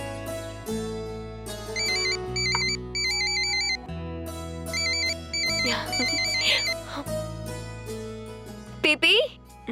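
A phone ringtone plays over background music in a Tamil TV serial scene, its repeating electronic chime pattern sounding in short bursts for several seconds as a call comes in.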